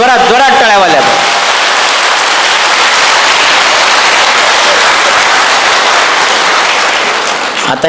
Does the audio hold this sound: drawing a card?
no